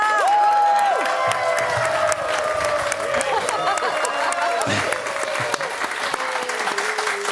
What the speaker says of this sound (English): I heard the applause